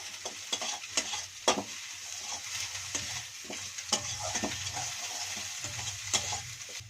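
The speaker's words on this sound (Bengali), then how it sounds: "হলুদ গুঁড়ো দিয়ে দেবো লঙ্কার গুঁড়ো দিয়ে দেবো ভালো করে মিক্স করে নেবো সবগুলোকে" Eggplant being stirred in a hot pan with turmeric and chili powder, a steady close sizzle overlaid by repeated scraping strokes of a spoon at an uneven rhythm, no voices.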